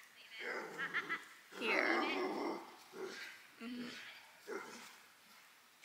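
Dogs bark and whimper in short bursts and yips, mixed with nearby talk. The sounds come at moderate loudness in irregular spurts.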